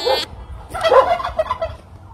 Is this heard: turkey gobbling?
yes